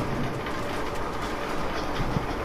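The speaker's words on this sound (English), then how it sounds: "Nikhil, watch the train. Watch the train" A train rolls past in the World War Z video game, a steady loud rumble with rhythmic clickety-clack of wheels on rails close by, and no voices.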